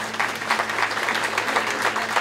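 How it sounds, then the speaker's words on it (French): Audience applause at a French cycling team presentation, dense continuous clapping at moderate loudness, with faint crowd noise beneath. "On applaudit bien fort l'équipe de France."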